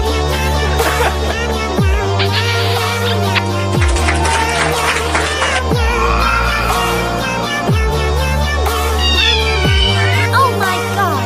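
Cartoon cat voices meow over a loud, busy music track with a steady repeating beat, the mews rising and falling throughout amid other overlapping effects.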